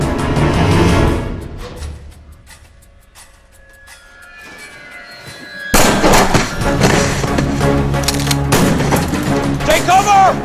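Gunfire breaks out in an action movie shootout, loud bursts and booms mixed with a dense soundtrack, following a quieter stretch at the start.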